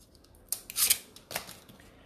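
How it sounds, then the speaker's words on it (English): Scissors cut around a small paper coffee cup shape in a few quick, close snips with crisp, papery crunches, heard alone in a quiet room. "So I've got my little coffee cup here. I'm going to cut that out."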